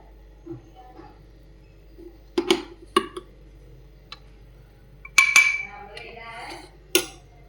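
A spoon clinks and scrapes against a bowl while mixing melted chocolate with dry fruit powder, several sharp isolated taps and scrapes scattered across an otherwise quiet, close kitchen setting.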